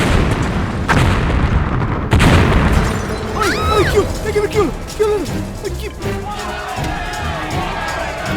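A loud, booming bomb blast in a train compartment at a railway station near the start among crowd noise and clatter, followed by a continued commotion of voices and scattered bangs.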